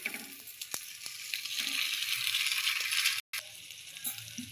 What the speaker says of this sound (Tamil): இப்போ கீழே இருக்க பிரெட்டையும் மேலே திருப்பி போட்டுடலாம்